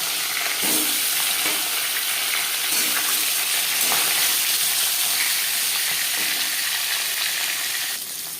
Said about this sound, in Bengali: চার চামচ রিফাইন্ড অয়েল গরম করে নিয়েছি দিয়ে দেবো লবণ হলুদ দিয়ে রাখা মাছের মধ্যে আর দিয়ে দেবো মাছ